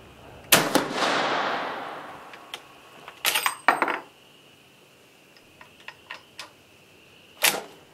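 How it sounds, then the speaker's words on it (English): Cartridges go into an M1886 Austrian Mannlicher rifle outdoors at a range, with a loud metallic slam and ringing, then a cluster of sharp clacks and scattered small clicks of the action, and one final clack, with no one talking. "if I feed them in one at a time and give them a slam, they seem to want to go in"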